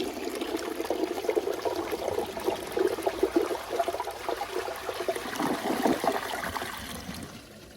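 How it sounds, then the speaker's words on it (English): A 2002 Crane Atlas toilet flushes a washcloth away with a rushing, churning surge of water that rises, holds for several seconds, then starts to drain off. "That one had a pretty better flush"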